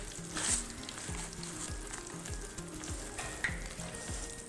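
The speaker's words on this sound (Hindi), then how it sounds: "और इसको फ्राई पे डाल देंगे" Breaded balls, rolled in cornflour, dipped in egg and coated in breadcrumbs, sizzle steadily in hot oil over a low flame, a close, continuous crackle with soft scraping and stirring throughout and no voices.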